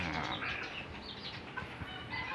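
A hen clucks in a small backyard chicken coop where eggs are being laid, a steady close stream of low clucks and fowl chatter over busy farmyard background noise.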